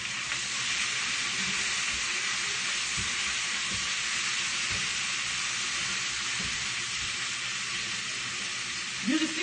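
Spinach sizzles steadily in a hot pan while being stirred, with a constant bright hiss of frying and soft scraping clicks from the stirring, close and continuous.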